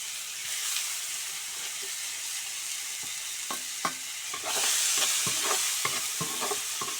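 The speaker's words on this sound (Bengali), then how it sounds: "এটা দিয়ে আজকে ভাজি করব, লাউয়ের চুচা ভাজি" Bottle gourd peel and potato fry in hot oil, a steady close sizzle broken by scraping stirs and clinks of the spatula, with a louder burst of hissing partway through.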